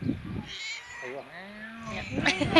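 A cat meows close by in a kitchen garden setting, one drawn-out rising and falling call amid people talking nearby.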